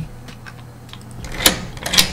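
A door in a Unity game unlocks with a bronze key: a low hum runs under faint ticks, then two sharp metallic clicks near the end.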